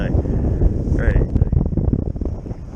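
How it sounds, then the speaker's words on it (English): Strong wind of about 20 mph roars over the microphone on a boat during trout fishing. It makes a loud, continuous low buffeting rumble that fills the whole clip, with a brief faint voice in the background. "It's windy tough out here today."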